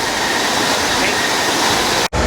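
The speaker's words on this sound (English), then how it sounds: "Very nice, very well done water features." Water features splashing at a Walt Disney World theme park land, a steady broadband rush of falling water that fills the scene loudly and continuously, briefly cutting out near the end.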